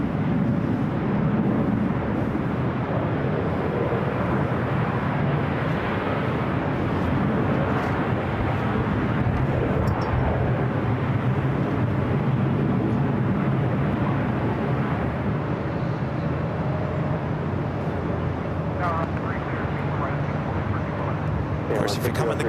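A KLM Boeing 787-10 Dreamliner arriving from Amsterdam at LAX makes a steady, loud, broadband jet roar that holds for the whole stretch, with voices faintly underneath.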